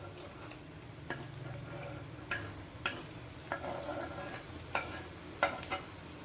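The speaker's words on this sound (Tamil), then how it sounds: "ஒரு ப்ரௌனிஷ் டிண்ட் வர வரைக்கும் இதை ஃப்ரை பண்ணிக்கலாம்" Vegetables fry in a pan until brownish, a soft steady sizzle with scattered clicks and scrapes of a spoon stirring, fairly quiet and close.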